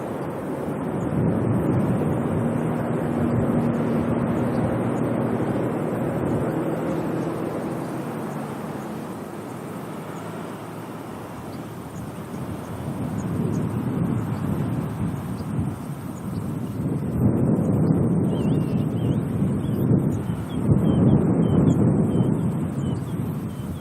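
Strong gusty wind buffets the microphone at Auckland airport, a deep rumbling roar that swells and eases over about twenty seconds, with a distant jet faintly underneath and no one talking.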